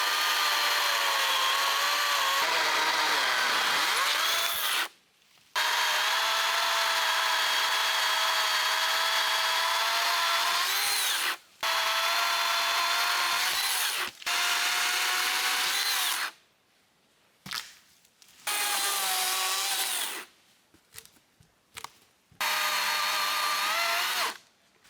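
A chainsaw bucks a big birch tree into firewood: a loud, close buzzing engine that bogs and revs through long cuts, with several short breaks where it drops to idle.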